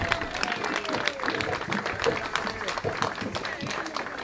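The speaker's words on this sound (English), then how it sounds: "give him a round of applause" A gathering honoring Haile Selassie breaks into applause: moderate, uneven clapping from a crowd with scattered sharper claps, heard at middling level alongside background voices.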